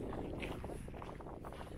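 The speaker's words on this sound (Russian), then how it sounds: "что сейчас просто тут очень сильный ветер" Strong northern wind buffets the microphone outdoors in the Uymon valley, a steady, loud rushing roar with gusty low rumble throughout and no talking.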